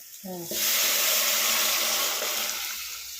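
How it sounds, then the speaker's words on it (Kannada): Cooked lentil water is poured into a hot cooking pan of turmeric-seasoned mixture, setting off a sudden loud hiss and sizzle that holds steadily and slowly eases. A short voice-like tone comes just before the pour. "ಇವಾಗ ಬೇಯಿಸಿರೋ ಬೇಳೆ ನೀರು ಹಾಕ್ಬಿಡ್ತಾರೆ"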